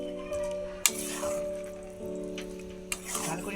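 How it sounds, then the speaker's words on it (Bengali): Jujube (kul) pickle is stirred with spices in a pan, a faint sizzle with two sharp utensil knocks and soft scraping over a steady low hum, close and quiet. "মশলা দিয়ে মিশিয়ে নেব।"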